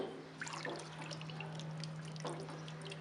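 Water pours steadily into a cooking pot for chickpea pulao, a soft continuous trickle with a low steady hum beneath, close and fairly quiet, with no voices.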